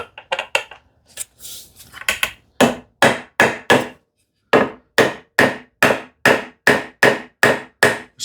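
Sharp wooden knocks as a snug wooden tenon is driven into its mortise by hand for a shoe rack, a few quick taps then a long steady series of close, loud, evenly spaced strikes.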